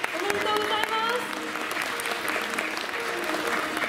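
An audience at the Miss World Japan Kyoto 2022 awards ceremony claps steadily, a dense wash of applause that stays fairly even throughout, with a voice briefly audible beneath it.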